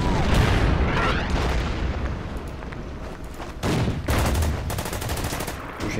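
Artillery fire in the wartime strategy game Order of Battle, Burma campaign: rumbling booms and sharp bursts of gunfire rolling over each other, loud and continuous, with heavy impacts partway through.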